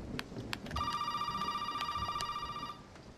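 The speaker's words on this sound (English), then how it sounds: "Now the phone's calling." A telephone rings in the Resident Evil 7 video game, a steady electronic bell tone sustained for about two seconds over faint background ambience and clicks, with no talk.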